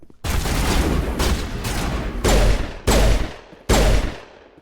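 Gunfire from the video game Mass Effect pounds out in sharp, loud bursts: a long sustained volley followed by several distinct heavy shots at roughly even intervals, each with a short decaying tail.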